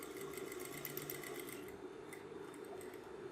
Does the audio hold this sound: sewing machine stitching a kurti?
yes